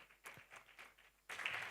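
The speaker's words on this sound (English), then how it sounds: "A louder round of applause," Scattered claps from an audience at a health symposium in Nigeria, faint and sparse at first, then swelling into fuller, louder applause near the end.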